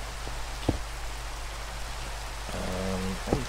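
Rain falls in a block-building video game as a steady, soft hiss of drops. A few faint clicks and a brief low tonal blip sit under the constant patter.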